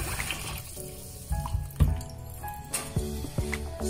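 Raw pork being rinsed under a running kitchen tap, with a steady stream of water splashing over the meat and sink, punctuated by irregular splashes and clunks of handling.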